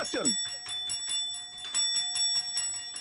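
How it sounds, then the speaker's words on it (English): A bright bell rung as a sound effect on a radio show, rapid repeated metallic dings ringing out with sustained tones, fairly loud and close, with a brief voice at the start. "I give you the bell for that."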